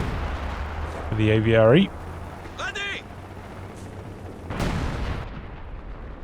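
Artillery fire in a Company of Heroes 2 3v3 match, with a single heavy boom partway through and someone commentator talking over the game sounds.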